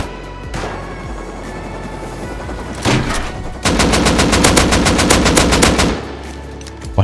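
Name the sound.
gunfire in the video game Rust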